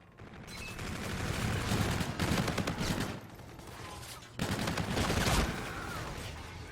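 Rapid gunfire from a Call of Duty Hardpoint match, dense bursts of automatic fire trading back and forth with brief pauses, loud and continuous through most of the moment.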